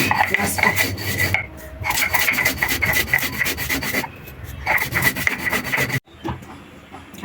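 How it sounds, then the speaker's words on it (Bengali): Roasted cumin, cardamom and cinnamon ground on a stone, steady rhythmic rubbing and scraping strokes with short pauses between runs, close and fairly loud. "আমি কতটুকু জিরা ভেজে নিয়েছি এবং তিনটা এলাচ আর দারচিনি এগুলো ভেজে বেটে দিয়ে দিব"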